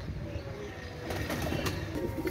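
Pakistani pet pigeons, a paired male and female, give soft low coos close by, with a few sharp wing flaps and rustles breaking in during the second half.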